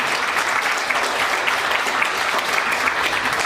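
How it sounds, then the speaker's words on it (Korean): An audience at a year-end sacred music concert claps steadily and warmly, a thick, even wash of applause sustained without pause throughout. "뭐 박수 한번 많이"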